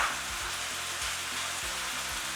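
Tomato sauce simmering in a pot, a soft continuous sizzle and bubbling hiss, steady and close, with no one talking.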